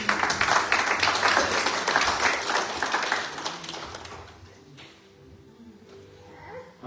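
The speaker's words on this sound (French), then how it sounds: "Acclamons la parole du Seigneur." A church congregation at a Pentecost service applauds in a dense burst of clapping that gradually fades over several seconds into a quieter room.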